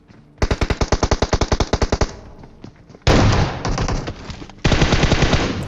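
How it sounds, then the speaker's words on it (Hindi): Video game shotgun gunfire, a rapid rhythmic string of loud close shots followed by two denser, noisier blasts of firing with a brief gap between them. "शॉटगन मारने की ट्राई भी करता हूँ"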